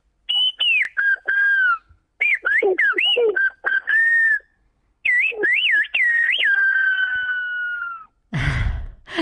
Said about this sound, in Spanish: Cada palabra silbada tiene un sonido muy parecido realmente a la palabra hablada